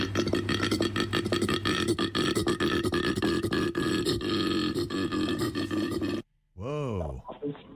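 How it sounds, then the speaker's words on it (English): A koala grunts at a zookeeper in a deep, rasping, burp-like rumble that runs loud and unbroken for about six seconds, then a brief pause and a short rising vocal sweep. "now we've got the sounds of a koala grunting at a zookeeper."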